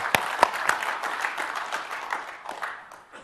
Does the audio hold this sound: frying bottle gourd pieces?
no